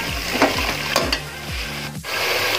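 Roasted mutton pieces sizzle and get stirred in a hot pan for chicken achari gosht, a steady frying hiss broken by repeated scraping stirs of a spoon against the pan.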